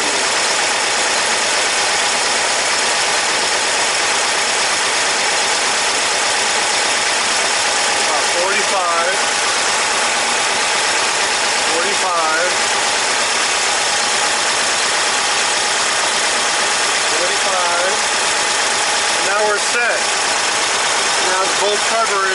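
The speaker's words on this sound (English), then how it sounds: "Both carburetors are at the right idle where I want them to be." Air-cooled engine fitted with dual EMPI 40HPMX carburetors idles steadily and loudly throughout, with a constant broad hum and some faint intermittent background sounds.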